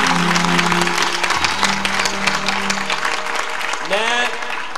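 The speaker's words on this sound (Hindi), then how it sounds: "आइए यीशु के लिए जोरदार ताली बजाएं।" A gospel preaching crowd breaks into loud, sustained applause for Jesus, dense clapping running throughout, with shouting voices and a brief musical tone rising near the end.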